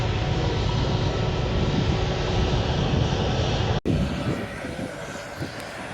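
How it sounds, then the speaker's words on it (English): A Turkish Airlines Airbus A321neo jet at Manchester Airport's runway viewing area gives a steady, broad engine roar that holds loud and even, then cuts off abruptly and continues as a quieter, thinner rumble. "This is a Turkish Airlines A321neo"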